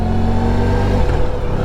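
A 1994 Honda ST1100 touring motorcycle engine running under way, a loud steady mid-pitched drone whose tone drops partway through as revs change, with wind noise and no talking.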